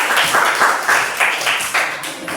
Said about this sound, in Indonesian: Kita berikan aplaus dulu untuk kelompok.